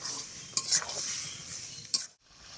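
Mutton with garlic cloves being stir-fried in a pot, a soft sizzle under a few sharp metal spoon clinks and scrapes, then a sudden brief drop to near silence before the sizzle returns.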